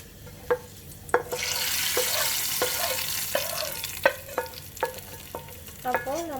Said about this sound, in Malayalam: നന്നായിട്ട് മൂത്തു നമ്മളിതിലേക്ക് ചേർത്ത് കൊടുക്കുകയാണ്.